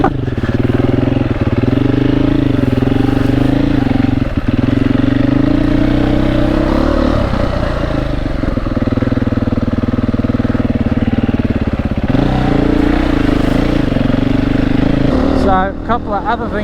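A Beta 480 RR dirt bike's engine drones steadily at close range on boggy ground, a throbbing mid-pitched exhaust note with small throttle changes and occasional clatter, and a voice talks over it.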